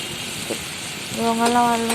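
Spice paste fries for a taro dish, giving a low, steady sizzle in the pan, with a short sustained tonal voice rising over it near the end.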